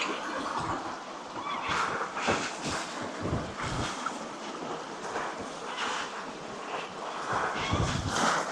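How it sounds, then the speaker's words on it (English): Wind gusts roar across the microphone on a boat on Colvos Passage near Tacoma, in rough, buffeting surges, rising and falling over a steady blustery rush. "Here comes another gust."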